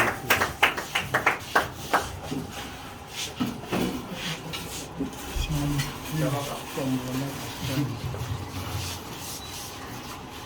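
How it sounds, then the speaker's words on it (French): A small audience gives a short burst of scattered clapping at the start, a few distinct claps that quickly thin out, followed by low murmuring and someone talking close by. "Avec vos applaudissements"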